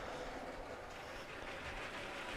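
A lightweight, fast LEGO train runs along its track, giving a steady, faint whirring rumble with soft continuous rattle and no pauses.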